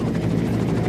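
A Huey helicopter flies in close formation, its rotor beating in a steady, dense, loud chop and broadband engine roar that never lets up through the second.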